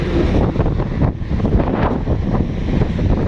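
Steady wind buffets the microphone outdoors at Bagaspas in a continuous low roar, with gusts rising and falling throughout and no voices present.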